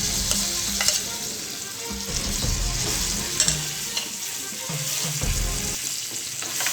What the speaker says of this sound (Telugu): తాలింపు ఫ్రై అయిన తర్వాత మనం ముందుగా నూరుకున్న పచ్చడి వేసుకోవాలి